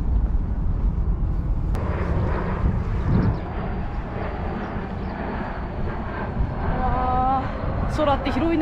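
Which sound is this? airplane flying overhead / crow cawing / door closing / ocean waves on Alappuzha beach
airplane flying overhead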